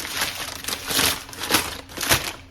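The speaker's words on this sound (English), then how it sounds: "let me get the rustling of paper done first because that can be annoying" Close, crinkly rustling of packing paper being handled and crumpled in repeated bursts, loud and unaccompanied by talk.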